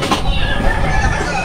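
Backyard chickens clucking in a steady, busy stream, close and fairly loud, with faint background noise throughout.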